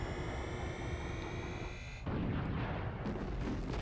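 Clank shooting in the game Ratchet and Clank, a loud booming barrage of heavy blasts and rumbling gunfire, with a high whining tone over the first half before a louder burst takes over.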